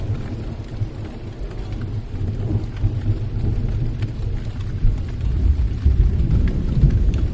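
Steady rain patters down while low thunder rumbles throughout, growing slightly louder toward the end, with no voices present.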